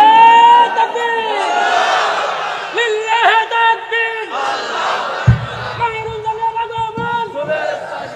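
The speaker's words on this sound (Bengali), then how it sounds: "ভালো করে তাকবীর দেন" A crowd at a religious gathering shouts the takbir in loud unison, several rising collective calls answering a leader, with a lone voice between the shouts.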